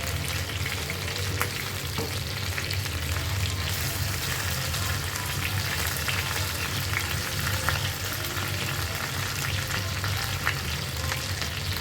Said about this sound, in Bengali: তো এইভাবে করেই হচ্ছে আমি চিকেনটা ভালো করে ভেজে নিচ্ছি।